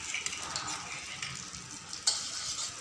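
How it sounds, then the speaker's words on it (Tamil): Butter melting in a pan for paneer butter masala, a faint, soft continuous sizzle with a small clink near the end. "பட்டர் மெல்ட் ஆன உடனே"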